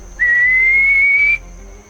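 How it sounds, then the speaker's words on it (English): Loud human whistle used to stop a deer, a single sustained, piercing note lasting just over a second, rising slightly in pitch, against a quiet outdoor background. "loud whistle"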